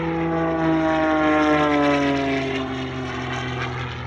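A yellow Wolf Pitts Pro aerobatic propeller plane flies past at an airshow, its loud droning engine buzz sliding lower in pitch as it passes.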